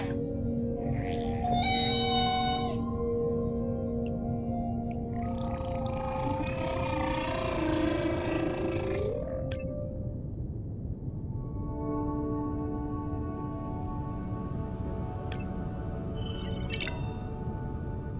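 Whale social calls in the underwater video game Beyond Blue: varied tonal whistles, rising and falling moans and squeaks over a steady low rumble, loud and continuous with no speech.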